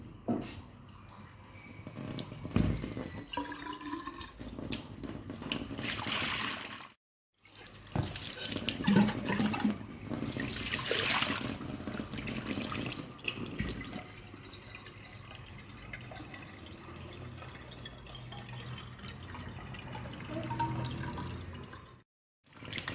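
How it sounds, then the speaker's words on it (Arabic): Water runs from a tap while the water for a snake plant is changed, making a steady splashing, filling flow that stops briefly twice before resuming, fairly close and moderately quiet. "وهسه راح اغير مي عصا موسى"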